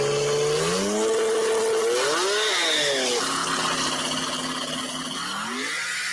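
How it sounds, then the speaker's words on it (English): Twin-turbo 2JZ race cars accelerate past, engines revving hard with rising and falling pitch as they shift and sweep by, loud and close, fading slightly toward the end. "I love the sound of those damn 2JZs though."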